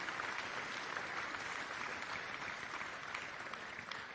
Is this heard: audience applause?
yes